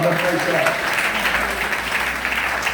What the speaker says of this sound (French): On s'applaudit ici pour la nouvelle naissance en Christ.